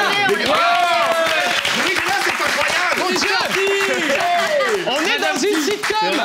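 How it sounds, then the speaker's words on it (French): A sitcom studio audience applauds and cheers loudly and continuously, with laughter and chatter mixed in, as if heard up close in the studio. "ça c'est typiquement le genre de truc qui fait applaudir les gens quand t'as le vrai Mr. T."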